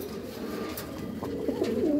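Pigeons in a loft, a pair sitting on eggs, coo in soft repeated throaty calls over steady low background noise, with no talk.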